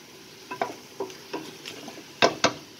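Curry base mix with spices sizzling in oil, a steady low frying hiss broken by several sharp scraping stirs, the last two loudest, close and alone with no talk.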